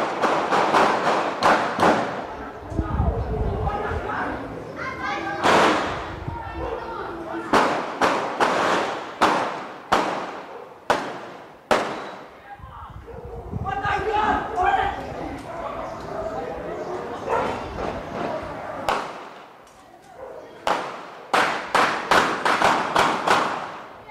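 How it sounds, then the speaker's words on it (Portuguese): Gunfire rings out in a neighbourhood shootout: repeated loud, sharp cracks and bangs arrive in bursts over about twenty seconds, with a dog barking and people's voices in between. "Um tiroteio assustou moradores em Vila Velha."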